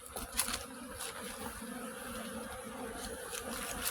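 Honeybees swarm densely around hives in an apiary, a steady close-up buzzing drone with individual insects zipping past the microphone now and then.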